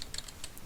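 Quick keystrokes on a computer keyboard, a handful of light clicks tapped in an uneven burst, close and fairly quiet with no talking.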